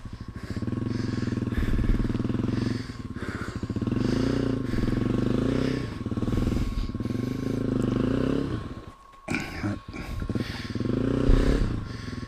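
A TW motorcycle labours up a rocky jeep trail, its engine revving in repeated surges and dips, close by, with a brief stall-like drop near the end before picking up again amid clattering rocks.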